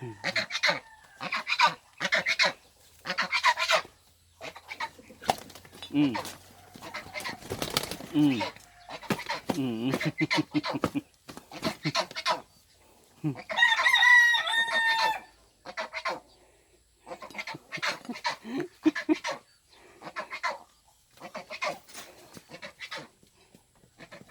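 Agitated, repeated clucking and squawking from a chicken nearby, loud bursts in quick succession with a short crowing-like cry midway.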